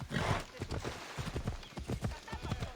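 A horse clip-clops steadily along a road in the video game Assassin's Creed Odyssey, its close, rhythmic hoofbeats running throughout while a voice talks over them.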